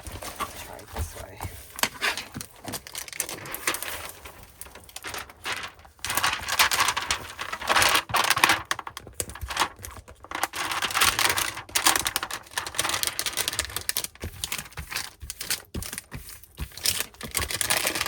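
Cellophane wrap is pulled and crinkled off art canvases while unboxing, a busy stretch of crackling, crunching plastic close by, with louder bursts throughout and no talk.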